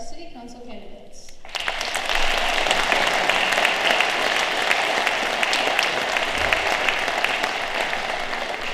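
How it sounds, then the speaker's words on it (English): A crowd in a high school venue in Allen Park claps for city council candidates at a candidate night, the applause rising sharply after a short spoken moment and sustaining as a steady, fairly loud wash of hands to the end. "Please give a round of applause for our city council candidates."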